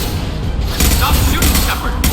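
Dense, loud gunfire and booming impacts fill a combat scene in the video game Mass Effect 2, continuous and close with little pause.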